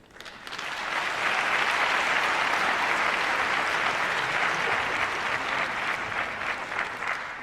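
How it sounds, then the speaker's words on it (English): A crowd applauds graduates at a winter nursing convocation and pinning ceremony, the clapping swelling quickly into a dense, steady wash that holds at full strength before easing slightly near the end. "why don't we give another round of applause to our graduates."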